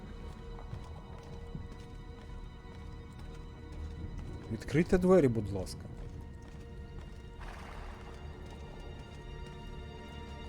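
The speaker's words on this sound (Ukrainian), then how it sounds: "Тут коні ще ходять." A horse whinnies loudly over a quiet background of faint clip-clopping hooves at a fortress tower in Assassin's Creed II; a person speaks briefly, all with a game-like ambience.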